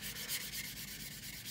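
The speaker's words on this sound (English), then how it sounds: "And these sanding sponges really hog away material fast." An 800 grit sanding sponge rubs over the wing of a Trumpeter 1/32 F-105G plastic model kit, a steady close scratchy hiss in quick back-and-forth strokes, quiet and continuous with no voices.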